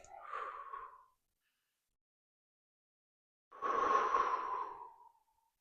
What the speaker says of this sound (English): I'm breathing in to my belly